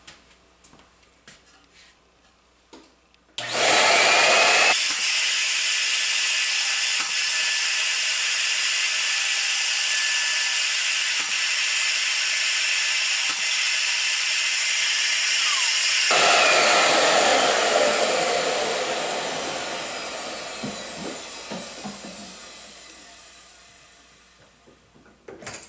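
Shaper Origin handheld router plunging and helix-cutting holes in a workpiece, starting with a sharp loud whine that holds steady for about twelve seconds before easing into a lower cutting tone and winding down.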